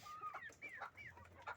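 Hens on a layer poultry farm cluck and chirp in short, rising calls that overlap one another at close range, over a low steady hum of farm machinery.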